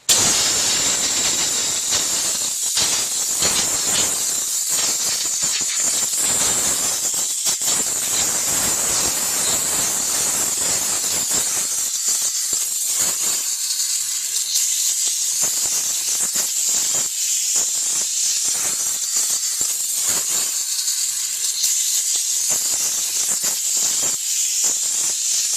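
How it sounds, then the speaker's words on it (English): Steam car wash machine steaming a car interior without cleaner, producing a loud, continuous hissing jet that keeps going steadily with brief dips and surges, close up and with no talking. "we'll just steam it without using any cleaner"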